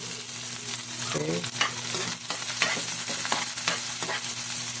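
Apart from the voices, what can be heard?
onions sautéing with garlic in a pan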